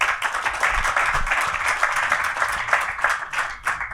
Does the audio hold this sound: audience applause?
yes